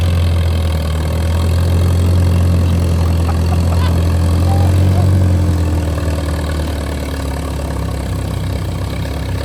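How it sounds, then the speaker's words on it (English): A tractor and a Ford Bronco rumble together in a tug of war, a loud steady low engine drone with idling and light revving that swells near the middle and eases off toward the end, with no talk. "let's see if this tractor can beat this Bronco in a tug of war."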